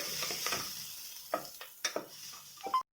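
Tomatoes with onions, curry leaves and coriander sizzle in a pan for Chennur dum biryani, with quiet frying beneath several distinct spoon stirs and scrapes, close by and without talk, ending abruptly.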